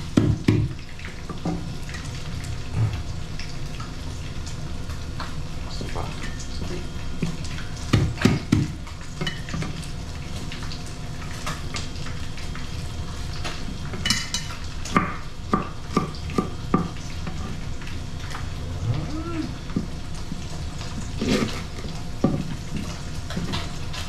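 Sliced onion and crushed garlic sauté in a hot pan with a steady low sizzle, punctuated by repeated stirring clatters and scrapes and a few sharper knocks; no talking.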